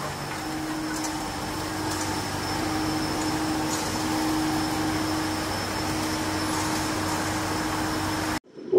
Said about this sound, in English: Okay, we have ice coming out of the machine again.